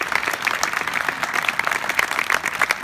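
An audience applauds the Committee for Green Foothills at an event honoring Shelton Johnson, a lively, continuous burst of many hands clapping close and fairly loud, with a faint crowd murmur underneath.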